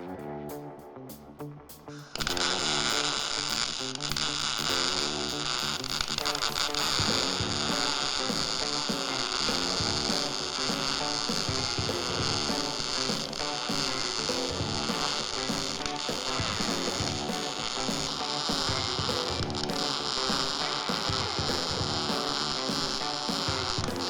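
Welding brackets on the underside of a Ford Econoline van: after a brief start, a steady crackling buzz runs unbroken at an even level for about twenty seconds.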